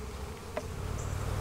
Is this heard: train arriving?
no